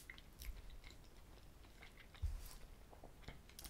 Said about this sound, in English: Let's just eat one half.